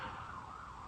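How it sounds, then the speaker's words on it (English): A distant emergency siren wails faintly outside, a wavering continuous tone heard through a quiet room with no one talking. "Sorry about the sirens."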